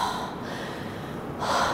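One person takes a single audible breath in, a short, close airy gasp that swells at the end, with no other sound around it.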